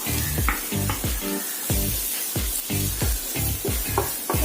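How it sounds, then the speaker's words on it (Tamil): Onions frying with turmeric, chilli powder and garam masala, a loud close sizzle broken by rhythmic scraping stirs about twice a second, no voices. "இப்போ வெங்காயம் வந்து கொஞ்சம் ஃப்ரை ஆயிடுச்சு. இப்போ இதில் மஞ்சத்தூள், சில்லி பவுடர், கரம் மசாலா,"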